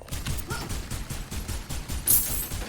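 Rapid bursts of gunfire in the video game Overwatch, steady repeated shots in quick succession, sharp and close throughout.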